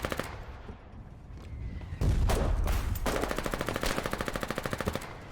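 Rapid automatic gunfire in the war game Foxhole, a dense loud burst of machine-gun fire with scattered single shots, building into a sustained rattling stream near the listener.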